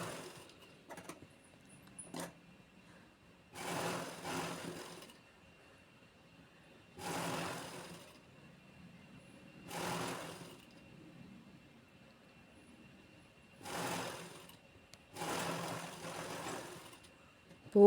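A sewing machine stitches along the folded edge of a blouse in several short bursts of whirring, separated by quiet pauses, and each run lasts about a second.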